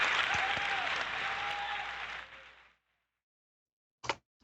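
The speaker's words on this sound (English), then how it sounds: "I can do a round of applause." A round of applause on a live-streamed talk show, loud even clapping that fades out and stops abruptly, followed by silence and one short sharp noise.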